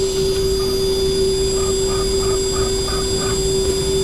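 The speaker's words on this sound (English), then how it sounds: "Okay, now we're cutting the holes." A CNC machine drills screw holes through an eyewear temple, giving a steady, loud whine with a strong constant tone and faint repeated chirps as the tip, not a new one, bites into the material.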